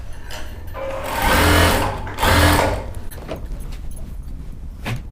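A Singer SS9900 sewing machine set to stitch pattern 5 runs in two close, loud bursts of rapid stitching, then drops to a quieter mechanical hum.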